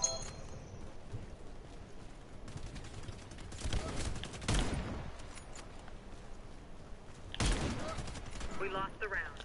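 Bursts of gunfire in a bomb-defusal round of a tactical shooter game, a few loud volleys around the middle and end over a steady busy game backdrop with quiet voices.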